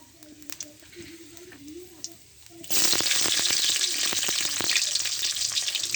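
Chopped garlic and dried red chillies hit hot oil in a pan partway through, setting off a loud, steady sizzle that continues to the end, after quieter kitchen clatter.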